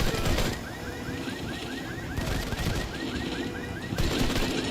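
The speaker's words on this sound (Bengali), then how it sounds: "এই হেভি ফায়ারিং চলছে।" Heavy automatic gunfire from the mobile shooter game Modern Combat 5, a dense continuous rattle of rapid shots with louder bursts at the start and near the end, heard without talk.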